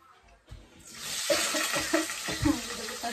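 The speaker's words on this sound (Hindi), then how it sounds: "अभी हम डालेंगे अपना ढेर सारा कांदा" A big handful of chopped onions drops into hot oil and breaks into a loud, steady sizzle that swells and fills the pan, with stirring scrapes and clatters over the frying.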